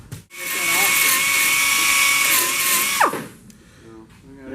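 Power grinder whines steadily on the car body metal of a 1962 Mercury Comet Wagon, a loud sustained high-pitched grind lasting about three seconds before spinning down, with brief talk near the end.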